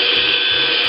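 An electric whisk beats a French buttercream mixture in one steady, loud, continuous whir throughout, with no pauses or speech.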